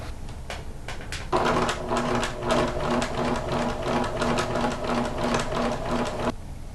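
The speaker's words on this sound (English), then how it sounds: "Alright, so now I have this sewn all the way around except for this gap where I'm going to turn it" A sewing machine stitches the seams of a fabric pouch with a steady, close mechanical whirr and rapid needle chatter. A few clicks come at the start, then one continuous run of about five seconds.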